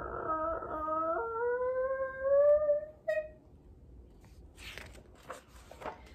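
A voice imitates a slowly creaking barn door being pushed open, drawing out a rising, wavering whine for about three seconds, followed by faint scattered rustles.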